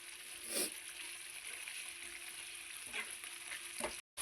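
Egg gravy with curd simmering and bubbling in a pan, a soft steady sizzle with a few brief stirring scrapes, fairly faint and close, with no talk.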